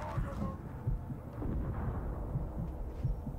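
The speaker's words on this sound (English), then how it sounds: "That's my heartbeat?" Low, rhythmic heartbeat thumps from the Shadow of War video game, a steady throbbing pulse repeating about every half second under a muffled ambient hum.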